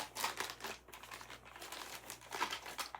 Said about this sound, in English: And it comes in a resealable bag.